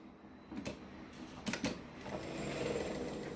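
A sewing machine stitches a fabric phone and earbud pouch, starting with quick short back-and-forth bursts of backstitching and then settling into a steadier, quiet run of stitching nearby.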